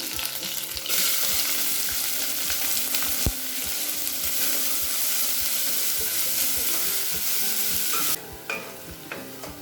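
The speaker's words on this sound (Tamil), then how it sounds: "இப்போ வெங்காயம் நல்லா வதங்கிடுச்சுங்க." Steady sizzling of chopped onion frying in a pan with curry leaves, with occasional stirring scrapes and clicks; the sizzle drops off briefly near the end.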